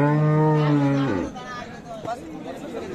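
A Friesian cow gives a single loud, close moo at a busy cattle market, then breaks off, with faint chatter in the background.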